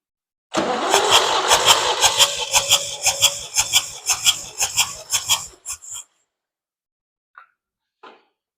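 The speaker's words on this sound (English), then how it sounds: "I'm gonna crank the engine over a few times" A 1965 Ford 3000 tractor engine cranks over rapidly during a compression test, a steady rhythmic chugging for about five seconds, then stops; two faint clicks follow in the quiet.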